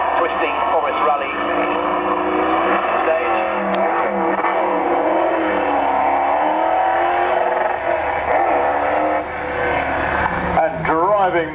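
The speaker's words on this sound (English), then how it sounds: "Driving the Beetle Chevrolet hard out of the blocks, Tom Bradshaw." A Chevrolet-engined Beetle driven hard off the line on a narrow, twisty forest rally stage at the Goodwood Festival of Speed, its engine revving loud and continuously beneath steady commentary.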